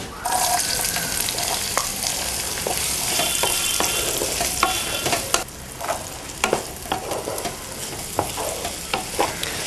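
Onions sautéing in oil with cloves and cardamom for chicken masala, a continuous close sizzle broken by repeated scraping stirs and spoon knocks that grow more frequent toward the end, with no voices.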